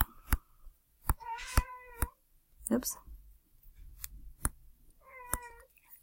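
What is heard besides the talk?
cat meowing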